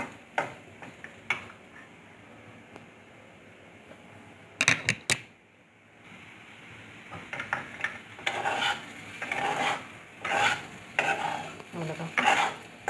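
A spoon stirs fried elephant foot yam in a pan, close clattering scrapes in irregular bursts, with quieter sizzle between them.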